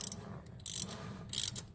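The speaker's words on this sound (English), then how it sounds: "you can actually use a ratchet on the top of it" A ratchet cranks down a valve spring compressor on a 360 Mopar engine, giving a few short metallic clicks in quick bursts, close and fairly quiet.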